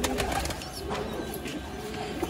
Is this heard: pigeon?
yes